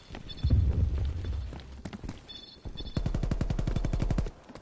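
Pistol gunfire in Call of Duty Black Ops Cold War: loud, close shots, first a few scattered blasts, then a fast, even burst of a dozen or more rounds before the firing stops.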